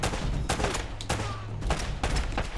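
Player shooting at an enemy in Uncharted: Drake's Fortune, a series of sharp gunshots in quick uneven bursts over steady jungle-like ambience, loud and close with no talk.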